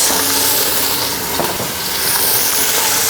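Ground beef being smashed and cooked in an Instant Pot, a loud, dense sizzle and hiss with scraping mashing strokes, close and continuous.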